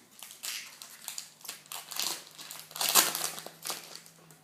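A Pokémon XY Furious Fists booster pack wrapper torn open and crinkled, close and crisp foil crackling in irregular bursts, with one sharper rip near the middle and no talk.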